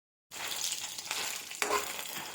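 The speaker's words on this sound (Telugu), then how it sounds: "ఇలా వేయించుకోవాలి కలుపుకుంటూ వేయించుకుంటేనే బాగుంటుందన్నమాట" Chana dal sizzles steadily in a hot pan while being stirred, a continuous close frying crackle with a brief scrape of the spoon partway through.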